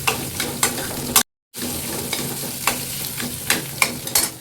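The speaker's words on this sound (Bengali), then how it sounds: "মশলাগুলো একটু তেলে একটু ভেজে নিই। পেঁয়াজ টমেটো দিব, কাঁচা লঙ্কা সবগুলো ভেজে নিতে হবে" Spices, onion, tomato and green chili fry in oil in a pan with a loud, close crackling sizzle, broken by repeated spoon scrapes and one abrupt second of silence.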